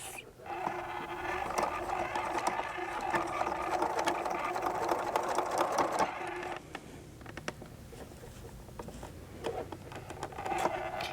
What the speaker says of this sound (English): go ahead and sew your box corner together first, and then you can add the binding seam tape second